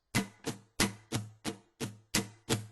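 Eight even strums on an acoustic guitar, alternating down and up in a steady eighth-note pulse, fairly quiet and close, with no talking.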